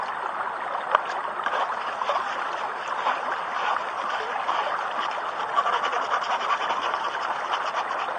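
Water swishing steadily in a gold pan as black sands are panned during gold recovery, a continuous close sloshing wash with no talk.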